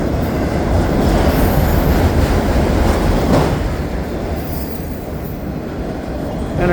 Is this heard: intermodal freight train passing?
yes